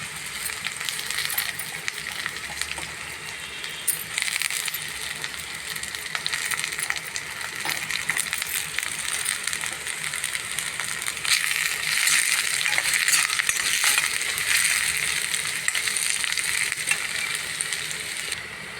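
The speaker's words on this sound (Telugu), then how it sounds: "ఉల్లిపాయ పచ్చిమిర్చి కరివేపాకు ఇలా వేయించుకోవాలి." Onion, green chilli and curry leaves frying in hot oil in a pan, a steady, dense crackle that holds at an even level throughout and grows slightly louder partway through, with no talk.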